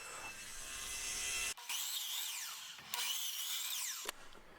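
Rough, steady sawing as wood is ripped down for cornhole board legs, loud and close, in three long passes separated by brief pauses, with a whining high-pitched rasp throughout.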